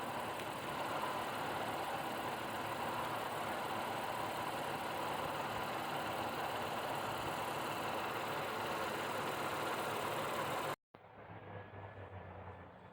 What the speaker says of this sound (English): This is the engine bay of a 2022 Honda Passport, four-wheel drive. I do believe this is a V6 engine.